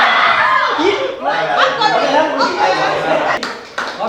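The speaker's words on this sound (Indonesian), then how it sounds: "Tepuk kanan" Pupils in a classroom clap game clap their hands together in bursts, close and loud, mixed with children's chatter, giggles and a call-and-response voice.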